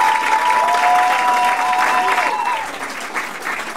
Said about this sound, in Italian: il concerto finisce con un applauso